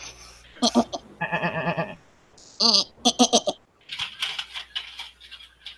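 Billy goat units in the War Commander video game bleat in a quick run of wavering, nasal cries, several calls bunched together, loud and close with game noise between them.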